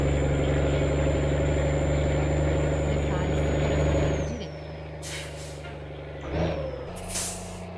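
A modded DAF truck in a video game gives a loud, deep, steady engine drone that cuts out after a few seconds, followed by sharp hissing air-brake bursts.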